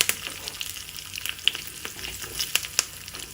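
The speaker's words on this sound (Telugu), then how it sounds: "కరివేపాకు వేసుకుందాం. తాలింపు వేగిపోయింది." Curry leaves sizzle and crackle in hot oil as a tempering for tomato mint chutney, a steady close frying hiss with scattered sharp pops throughout and no voices.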